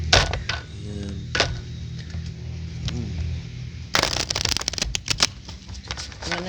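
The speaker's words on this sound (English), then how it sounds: "I want to make sure it gets shuffled good." Tarot cards are shuffled in a riffling, crackling flurry, with brief soft thumps and a louder burst of rapid card flicks near the end, close to the listener, with no talking.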